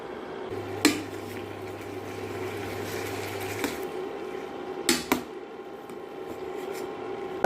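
Prawns sautéing with masala, chilli powder, coriander powder and salt in a pan: a soft, low sizzle runs underneath while a spatula scrapes and clinks against the pan a few times, sharp and close.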